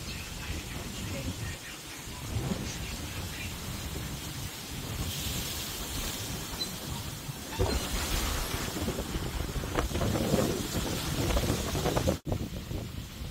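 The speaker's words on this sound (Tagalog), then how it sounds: "Malakas pa rin ang hangin." Strong, gusty typhoon wind in the Philippines roars and rushes steadily, swelling louder in waves with rattling and buffeting noises throughout, a faint voice now and then underneath.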